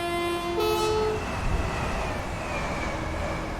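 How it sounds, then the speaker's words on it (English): A Class 185 Desiro train in Train Simulator sounds a short two-tone horn toot, then rumbles past with a steady, loud rolling roar that holds to the end. "Lovely train, that, look at that."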